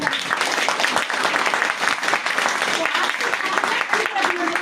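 An audience at a Modicare business motivational seminar claps loudly and continuously throughout, with voices mixed into the steady applause.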